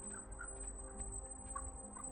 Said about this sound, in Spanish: The white-tailed eagle.